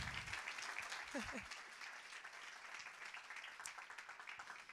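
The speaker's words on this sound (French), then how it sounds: "On peut les applaudir." A conference audience applauds steadily, a dense wash of many hands clapping at moderate volume, with a few voices briefly heard beneath it.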